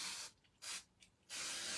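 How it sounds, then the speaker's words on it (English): Magic Retouch hair colour spray hissing onto a hair parting in three close, steady bursts, with short pauses between them. "I'm just going to spray down that parting."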